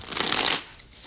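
Playing cards being shuffled by hand for a reading, a dense riffling flutter for about half a second that then stops, with no one talking.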